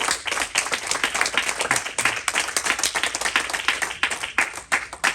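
Congregation at a church service giving a loud round of applause, dense steady clapping filling the space with a few sharper individual claps standing out near the listener.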